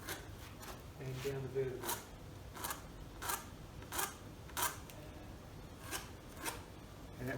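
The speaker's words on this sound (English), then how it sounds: "you can easily just draw a line along the inside" Pencil drawn along the inside edge of a clamped wooden piece for a herb garden cage top, a series of short, close rasping strokes at a steady rhythm, with someone speaking over part of it.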